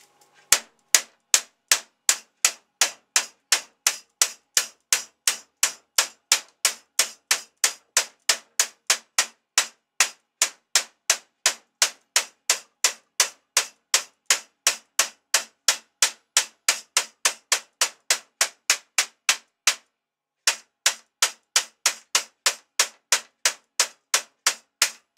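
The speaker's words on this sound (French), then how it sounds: "là je vais finir au marteau." Hammer striking the folded edge of sheet metal on a handmade metal box, a long run of sharp, ringing metallic blows in an even, fast rhythm, close and loud, with one brief pause near the end before the hammering resumes.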